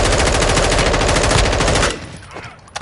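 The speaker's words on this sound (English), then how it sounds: "You are taking effective fire." Dense, loud automatic gunfire from Call of Duty Warzone on Ashika Island, a rapid rattling burst running about two seconds before cutting off, leaving a quieter tail with a few faint sounds.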